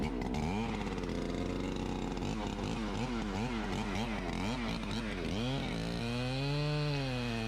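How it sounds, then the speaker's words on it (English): Chainsaw with a stretching throttle cable bogging as it cuts through red oak on a felling cut, engine pitch sagging and wavering, loud and close and continuous with no talk. "The saw's starting to slow down a bit. That's why it's sticking a little bit in that red oak."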